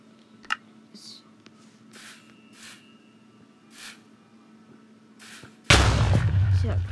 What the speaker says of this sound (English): It explodes. What it does is it flies near you and then explodes.